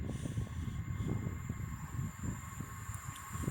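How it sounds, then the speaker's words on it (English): A Class 158 diesel multiple unit runs through Castleton station, its low engine rumble and wheel noise steady and fairly loud throughout, with no voices. "The next train to be coming through will be a pair or a single 158 running from Leeds to Wigan Wallgate."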